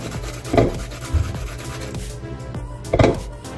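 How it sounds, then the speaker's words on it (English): Half an onion rubbed against a grater for kimchi, rough scraping strokes in an uneven rhythm with a few louder thumps, close and clear. "The half of onion, same thing, grate natin siya."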